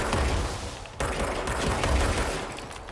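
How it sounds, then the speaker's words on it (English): Rapid gunfire from the video game Control, a dense, continuous barrage of shots filling the clip at close range, loud throughout with a brief dip just before one second. "I'll just keep shooting forever."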